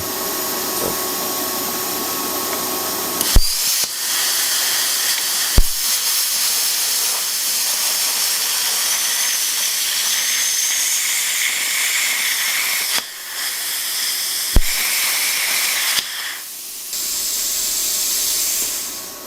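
A ArcCaptain Cut50 plasma cutter cutting stainless steel with a loud, steady rushing hiss of air, broken by a few sharp pops and brief gaps, then a softer hiss at the end.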